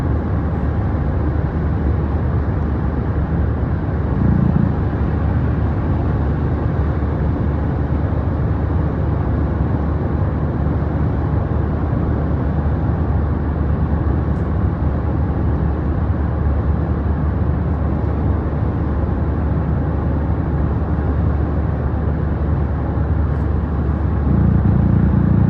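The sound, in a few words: car driving, road noise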